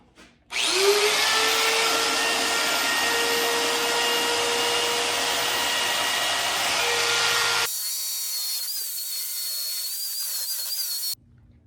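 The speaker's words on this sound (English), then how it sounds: "So almost got this piece ground out, all the spot welds." A belt grinder cuts out spot welds on a Honda S2000 brace during an LS V8 swap, giving a loud, steady high-pitched whine for about seven seconds before it shifts to a thinner tone, then cuts off.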